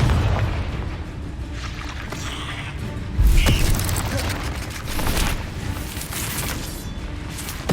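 A Confringo explosion spell bursts in Hogwarts Legacy, a deep boom about midway through combat clatter, mechanical rattles and rumbling effects.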